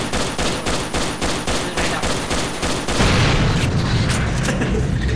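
Rapid bursts of gunfire strike cars, a fast volley of loud cracks in a steady rhythm for about three seconds, then a dense, continuous roar of shooting and impacts.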